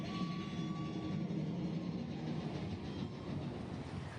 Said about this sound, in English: Next, we'll ride Big Thunder Mountain Railroad.